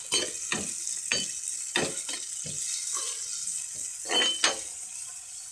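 Tomatoes are stir-fried in a pan for a kingfish curry, with a steady sizzle under repeated scraping strokes of a spoon against the pan, heard up close at a moderate level.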